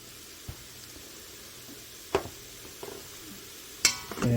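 Spices stirred into a pot of carnivore chili with smoked paprika, giving a faint low sizzle and a few isolated scraping clinks of a utensil against the pot, spaced out over a few seconds.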